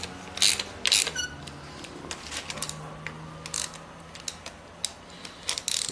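A ratcheting hand tool snugs down intake manifold bolts on a Chevy 350 small-block engine in a garage, with clustered metallic ratchet clicks in short bursts, close and fairly loud.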